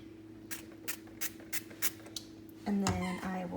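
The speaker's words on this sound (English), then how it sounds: "I cannot believe it's not butter spray. So I just spray it" Butter-substitute cooking spray hissing onto waffles in seven short, evenly spaced bursts, then a longer, louder bump and clatter near the end.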